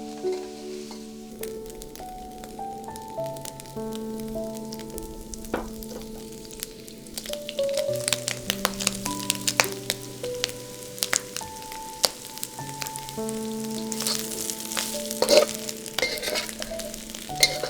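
Mushrooms and Asian-style vegetables stir-frying in a pan for a Thai stir fry, a soft sizzle with scraping and clicking stirring strokes that grow busier partway through, all under steady melodic background music.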